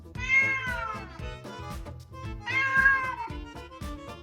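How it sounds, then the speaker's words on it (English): Two drawn-out cat meows, clear and close, each rising then falling in pitch, separated by a short pause over a faint rhythmic background. "play a cat sound"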